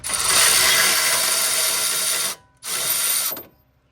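Tool spinning off the 18 mm ball joint bolt on a Mazda Miata control arm, a loud continuous whirring burst, a brief stop, then a second shorter burst before silence.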